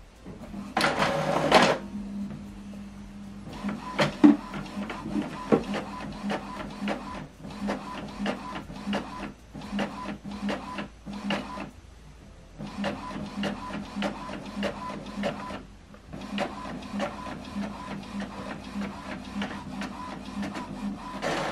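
An Epson WF-2910DWF inkjet printer prints a document: a loud whir at the start, then a long run of rapid mechanical clicks and ratchets from the print head and paper feed, with brief pauses between passes and no talking.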